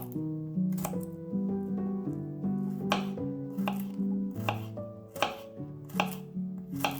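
A knife finely chopping garlic on a cutting board, a run of crisp, evenly spaced taps close up with a few quicker bursts, no talking over it.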